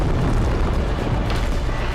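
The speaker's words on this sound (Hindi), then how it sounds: "भाई धमाका।" An atomic breath attack in a Godzilla video game sets off an explosion: a loud, sustained rumbling roar that fills the whole two seconds, with no talking.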